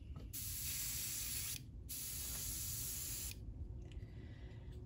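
Spray can of crackle paint hisses onto a single tabletop miniature base in two long bursts with a short pause between, loud and close, then a quieter tail of faint rattling.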